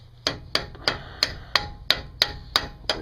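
A hammer strikes repeatedly to drive a stop pin out of a hub, landing about nine sharp metallic blows at a steady, slightly quickening rhythm, close and clear with no talk.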